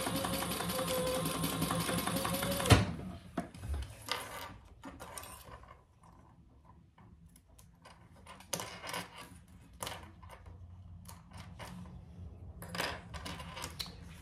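A sewing machine stitches two lines of topstitching on a clutch purse, a fast steady whirring run for a few seconds that stops abruptly, followed by quiet handling clicks and small rustles.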